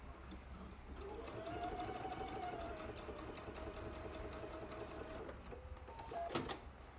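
A sewing machine stitches close to the edge of a t-shirt hem, running in a steady continuous whir for several seconds at close range, with a brief change in pitch near the end.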